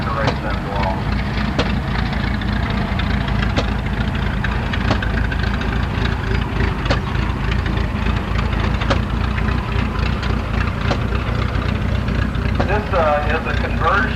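A vintage tractor engine runs steadily at a Texas early-day tractor and engine show in 1987, a loud continuous droning rumble with a repeating beat close by, while someone talks over it.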